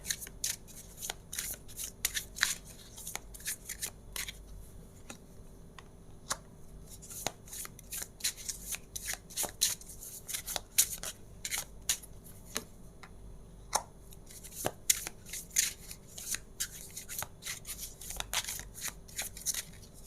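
Tarot cards are shuffled steadily by hand, giving a long run of crisp, close riffling snaps and flicks in an irregular rhythm, with no talk.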